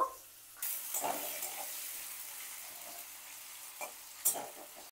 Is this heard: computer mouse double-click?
no